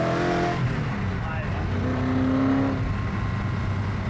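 A Koenigsegg CCX engine hums and rises in pitch after a downshift into second gear, a close, steady mechanical drone with a brief climbing tone partway through.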